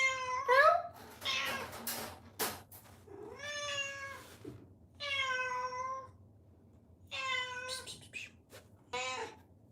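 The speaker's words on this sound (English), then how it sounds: "Big meow." A trapped cat meows repeatedly, several clear drawn-out cries spaced through the clip with short gaps between them, close and loud, while a person speaks softly between the calls.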